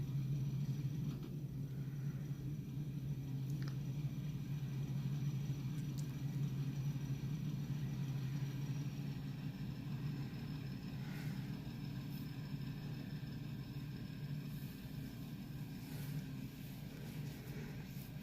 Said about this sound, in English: it's a big hulking jet engine on the back end of it